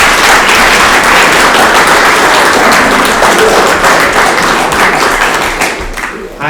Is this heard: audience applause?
yes